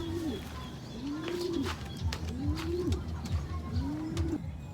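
Pigeons coo in a repeated rolling pattern, about four soft, rising-and-falling calls spaced evenly, close by, with faint chirps and light background noise between them.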